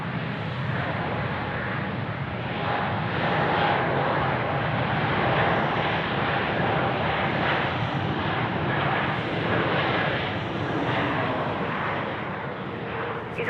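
A Qantas airliner lands at Sydney Airport on runway 34 left, a steady broad engine roar that swells slightly and holds for the full span, moderately loud and unbroken.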